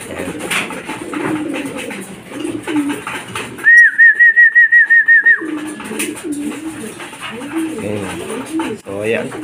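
Racing pigeons feeding before a race give a burst of rapid rolling coos, about eight pulses in quick succession, close and clear, between stretches of people talking and feeding noise.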